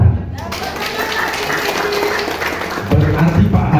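An audience claps at a marketing presentation, a dense burst of hand claps that swells loudly toward the end.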